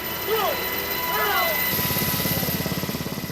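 A military helicopter slowing at 4,000 feet during special forces high-altitude parachute training, its rotor thumping in a rapid steady pulse under engine whine, loud and close, with a brief radio-like voice early on.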